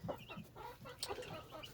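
Chickens clucking softly in a backyard coop holding home-hatched chicks and roosters on a warm day; short, scattered clucks, faint and somewhat distant, with no talking.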